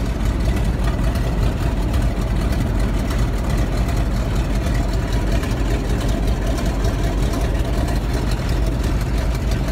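Old radial engine on a biplane running with the prop control pushed forward, a loud, steady, low rumbling drone that holds constant throughout without pause.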